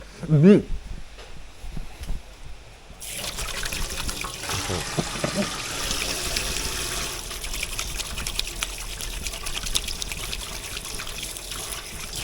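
Water runs steadily from a kitchen tap while hands are washed beneath it, a continuous hissing trickle lasting most of the clip, preceded by a brief quiet moment with a short voice sound.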